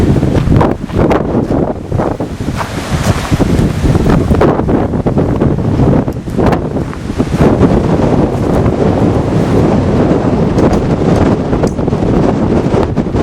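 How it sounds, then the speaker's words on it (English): Strong wind roaring through an old tunnel, a loud, constant buffeting rush that batters the microphone with heavy low rumble and gusty surges, with no other sounds standing out. "We go through the wind tunnel."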